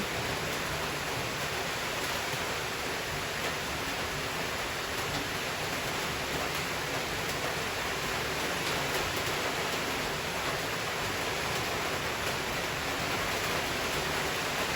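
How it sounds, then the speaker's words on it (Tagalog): A steady, dense roar of heavy rain, constant and loud throughout with no pauses or other sounds. "Malakas na naman ang ulan."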